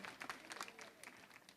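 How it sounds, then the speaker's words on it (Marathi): A school foundation day audience applauds, a dense patter of many clapping hands that stays fairly close and steady throughout, with a voice speaking briefly over it. "त्यांच्यासाठी सरा टाळ्या वाजवा"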